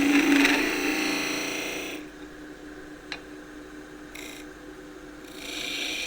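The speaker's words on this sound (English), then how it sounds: "So into the wood, I've lined the bevel up with the direction I want to go, get into the wood, and then ease the tool forward." A skew chisel cuts wood on a lathe with a soft rubbing rasp, loudest at first, then dropping to a quiet low hum with a brief tick and later swelling again.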